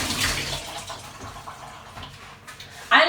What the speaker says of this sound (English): put your hands under the sink and let water run over your hands